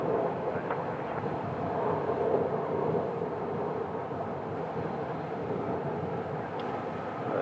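American Airlines airplane passing at Phoenix Sky Harbor Airport, a steady distant jet roar that stays fairly constant throughout at moderate level, with no talk.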